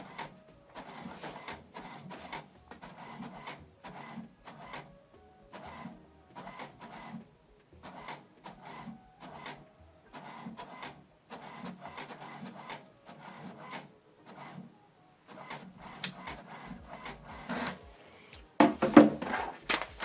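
An HP Deskjet 2922 inkjet printer printing a document gives off a regular series of short mechanical bursts as the print head shuttles back and forth, with a louder paper-feed rattle near the end.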